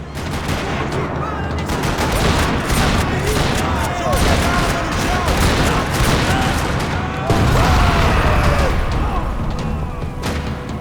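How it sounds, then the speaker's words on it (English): Rapid gunfire rattles across a parking lot in Max Payne 3, loud and sustained bursts of automatic shots overlapping with booms and echoes throughout. "Another parking lot rattling with gunfire."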